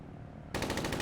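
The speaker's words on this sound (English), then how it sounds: "We'll fire a few rounds." Helicopter-mounted gun in Arma 3 opens fire partway through, a loud, dense burst of rapid automatic rounds that starts abruptly after a half second of rumbling engine noise and continues to the end.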